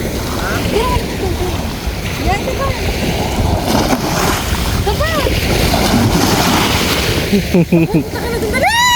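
Waves roll in at high tide on Heera Beach in Sharjah, a constant loud wash of surf and wind buffeting the microphone, with shouting and voices over it throughout.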